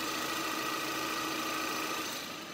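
A Hyundai Veloster 1.6 GDI petrol engine idles steadily up close, a smooth even hum with a light mechanical whir and no change in pace.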